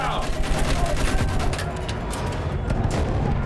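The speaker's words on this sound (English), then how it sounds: "Use that machine gun!" Dense automatic gunfire from a World War I machine gun in Battlefield 1, a continuous loud rattling barrage mixed with battlefield booms, with shouted voices in the background.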